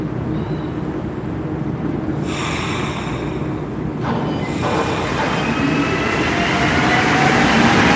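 A metro train rumbles past at close range, a steady loud roar with rail noise that grows slightly louder toward the end.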